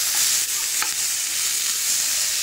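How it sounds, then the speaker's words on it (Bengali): Onions and radish fry in a pan with a steady close sizzle, broken by a couple of soft stirring scrapes; no voices. "এখন কিছুটা পেঁয়াজ দিচ্ছি। সাথে পেঁয়াজটাও ভাজবো।"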